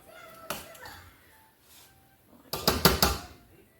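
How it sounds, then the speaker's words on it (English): A spoon clinks against glass as candied jalapeño peppers are transferred into clean half-pint jars, a single sharp knock followed by a quick cluster of clattering taps a couple of seconds later. "So now what I'm going to do is transfer just the peppers into some clean jars."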